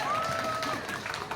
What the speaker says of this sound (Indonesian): kalau tepuk tangan begitu berarti emang dikecewain kok ya